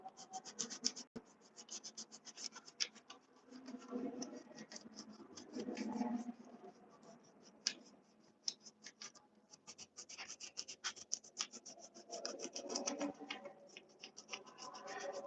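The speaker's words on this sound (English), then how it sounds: "just rubbing off the gum" Dried masking fluid being rubbed off watercolor paper, producing faint, close scratchy rubbing strokes in quick irregular bursts, soft and continuous with small pauses.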